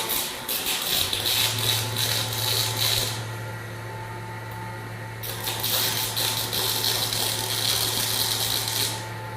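A No-Mar robotic motorcycle tire changer runs in a workshop, giving a steady low hum with bursts of higher whirring and rattling mechanism noise, fairly close.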